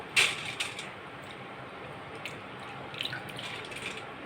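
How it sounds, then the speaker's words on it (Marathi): Water drains from soaked moong lentils through a strainer, a faint, sparse dripping and trickling with a few soft taps over quiet room noise. "आता जाळीवर आपण डाळी चांगल्या नितळून घ्यायचे पाणी सगळं"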